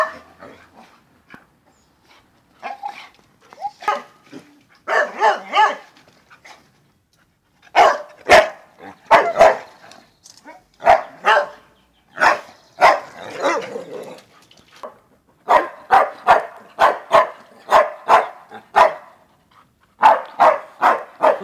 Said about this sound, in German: Ich wusste gar nicht, dass der bellen kann.